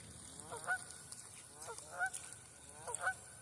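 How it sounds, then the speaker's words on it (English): A goose honks loudly near a creek, three distinct honks spaced about a second apart over faint outdoor background noise. "And that goose is loud and annoying."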